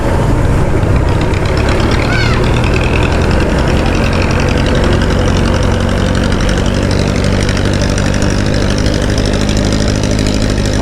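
A 2021 Honda Beat FI scooter climbs uphill with a steady, loud engine drone and heavy wind rush heard from the rider's position, continuous throughout with no clear talk.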